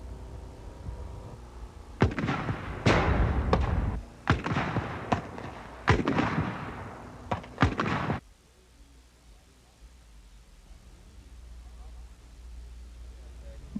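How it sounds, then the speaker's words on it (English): A US Army LAW rocket launcher firing practice rounds at a Fort Leonard Wood basic training range in 1986, a series of sharp, heavy blasts over about six seconds, then quiet. "Firing the law rocket is another thrill."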